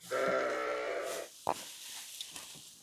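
A single loud, drawn-out sheep bleat up close, followed by quieter rustling and a few faint knocks.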